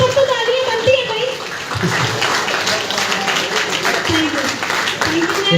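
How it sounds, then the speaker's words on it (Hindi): Applause and clapping from an audience after a gel demonstration at a women's health awareness presentation, steady and fairly loud across the clip with voices mixed in. "यहाँ पर तो तालियां बनती है भाई।"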